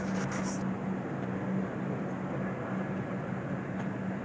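Saurashtra Mail train running, heard from inside a 3AC economy coach: a steady low rumble and hum of the moving carriage, continuous and even, with a faint steady tone throughout.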